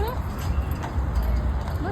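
Hooves of a carriage horse clip-clop on pavement in a summer park near the Dallas Museum of Art, a short run of light, even steps under a person talking nearby.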